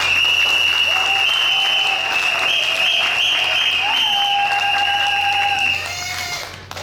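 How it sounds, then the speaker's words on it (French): Wedding guests applaud steadily at a civil ceremony at the town hall, a dense, continuous clapping sustained at close range for several seconds before thinning slightly at the end, with a few high whistles or tones running over it. "sous vos applaudissements"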